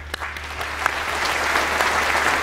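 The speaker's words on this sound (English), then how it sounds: "I'll give them a round of applause." An audience at an Ellis Island Medals of Honor ceremony applauds with steady, swelling clapping from many hands, a few sharper claps standing out at the start over a low hum.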